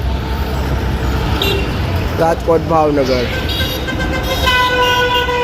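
GSRTC ST buses pull out of Rajkot bus stand around midday: a few short horn toots ring out over steady engine rumble and road traffic, with people talking close by.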